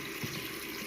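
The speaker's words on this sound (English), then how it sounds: "So let's turn the water on and wet the brush." Water runs from a sink tap to wet a cleaning brush, a steady hissing splash heard briefly and fairly close, with no voices.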